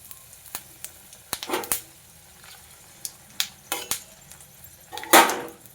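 Whole cumin, bay leaf and dried chili dropped into hot white oil in a kadai, giving sharp sporadic crackles and pops with a louder burst of sizzling near the end, close and without talk.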